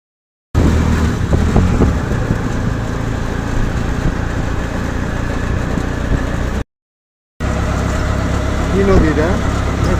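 A CNG auto-rickshaw engine running during a ride in Bangladesh, a steady close mechanical drone with rattling, briefly interrupted by a silent gap, with a voice heard faintly over it near the end.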